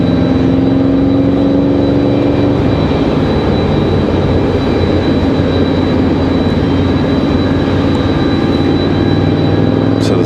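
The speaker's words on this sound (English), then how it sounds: "We got a Southwest departure, Southwest 159 headed to Austin, Texas." A Southwest airliner departing Raleigh Durham International Airport for Austin, a steady loud jet engine roar with a droning hum, continuous and unvarying, with talk mixed in.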